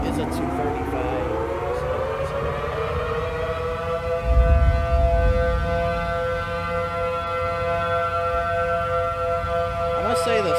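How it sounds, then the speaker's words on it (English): Civil defense sirens in the Roblox game Twisted wind up together, their rising tones settling into a loud sustained wail with layered harmonics, while a low rumble swells briefly in the middle and a voice talks over it. "I must say the startup for these sirens sounds a little weird."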